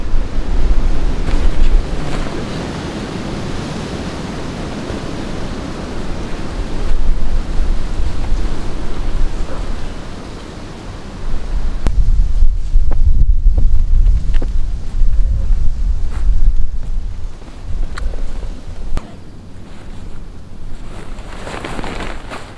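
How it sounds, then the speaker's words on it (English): Strong wind roaring around a winter hammock camp in 0°F cold, loud gusty rushing with heavy low rumble and microphone buffeting that swells and eases over the stretch, no talk. "now the wind's picked up"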